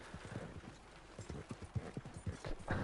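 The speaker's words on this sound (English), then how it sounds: "my horse is just doing its own thing" Horse hooves clip-clop steadily along in the Red Dead Online video game, a fairly quiet, even trotting rhythm heard on its own without talk.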